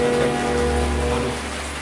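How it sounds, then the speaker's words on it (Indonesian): Heavy rain pours down steadily and loudly outside an empty house, forming a dense, continuous wash of hiss with a low rumble and no break. "hujan semakin deras"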